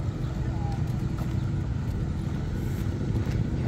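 A Toyota 2000GT arriving at an outdoor car festival at a roadside station gives a steady, low engine rumble that holds for the whole stretch, with faint crowd voices in the background.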